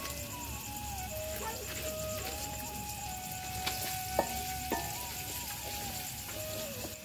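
Whole cinnamon pieces, cardamom pods and cloves sizzle steadily in hot oil for a Bengali stem vegetable (data) dish, a constant close frying hiss with a few faint clinks, over a background of thin whistling tones.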